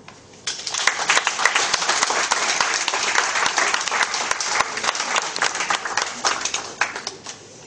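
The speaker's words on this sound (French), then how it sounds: "je souhaiterais avant tout propos demander que l'assistance applaudisse les enseignants" An audience at an education event applauds the teachers, a sudden burst of dense clapping that swells and holds loud and steady for several seconds.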